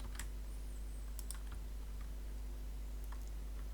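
Computer keyboard typing a command into Command Prompt: a few faint, scattered key clicks over a low steady hum, quiet and close, without speech.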